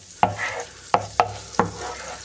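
Shrimp frying in a pan while being stirred, four distinct scraping knocks of a utensil against the pan over a soft steady sizzle, close and without speech.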